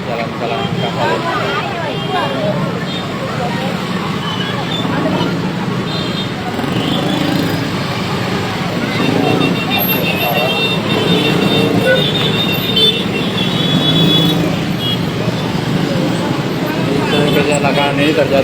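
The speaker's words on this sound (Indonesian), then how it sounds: "Mengakibatkan kemacetan panjang di ruas Jalan Galangan Kapal ini." Steady roadway drone of a long traffic jam on Jalan Galangan Kapal in Makassar after a container truck and Kijang Innova crash, engines and vehicle noise continuous throughout, with a reporter talking over it.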